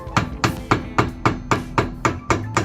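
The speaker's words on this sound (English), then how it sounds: "you can grab one of these guys or a flathead screwdriver, and of course a little hammer." Metal hammer taps on a rear brake part of a 2010 Chrysler Sebring, about nine sharp, evenly spaced blows at roughly three per second, close and clear with no talk.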